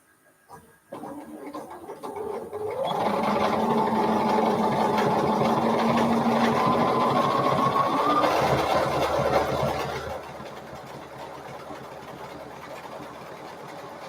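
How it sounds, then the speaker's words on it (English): A sewing machine runs a steady, continuous stitching burst for several seconds while hemming a pillowcase, close and moderately loud, then stops, leaving quiet room tone. "I'll do it on this side so I can see the stitching"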